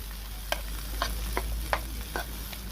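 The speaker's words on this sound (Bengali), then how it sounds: "এবার দেখুন তেল দিয়ে সবগুলো আমি ভালোভাবে ভেজে নেব" Boiled jackfruit seeds fry in oil with a steady close hiss, punctuated by several crisp spatula scrapes and clinks at a loose, irregular pace.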